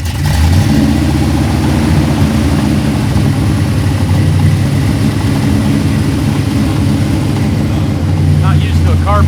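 A carbureted car engine runs loud and close throughout, a steady low rumble with uneven surges as the throttle is feathered to keep it going, and faint voices in the background.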